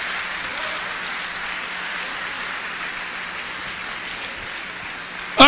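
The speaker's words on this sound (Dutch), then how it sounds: "Kom op, geef de Heer een applaus als u het meent." A church congregation applauds the Lord in a steady, dense wash of clapping that holds evenly for several seconds, with a brief louder burst at the very end.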